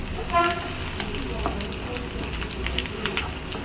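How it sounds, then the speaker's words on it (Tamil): Onions sautéing in hot oil for a roasted fish head gravy, a steady close sizzle and crackle with occasional stirring scrapes throughout. "வெங்காயம் ஒரு பாதி அளவு வதங்கணும்."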